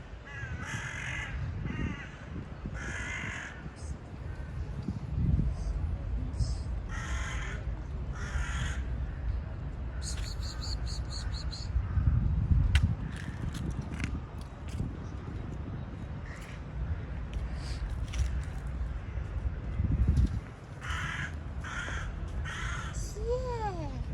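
Crows cawing outdoors in a natural setting, several harsh caws repeated in bursts across the clip, some near and some farther off, over a steady low rumble of outdoor background noise.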